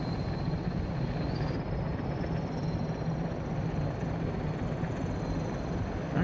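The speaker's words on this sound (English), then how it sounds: "Alright, so let's get that helicopter in here." Helicopter in the Farming Simulator 2017 video game, a loud, steady rotor and engine drone with a high turbine whine that shifts slightly in pitch, continuous and close.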